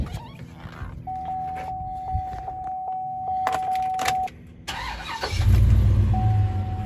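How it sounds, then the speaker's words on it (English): A Chevrolet Avalanche pickup starts up after a steady warning chime, the starter cranks and the engine catches into a louder rough idle, close by and with no talking. "Give it a start up."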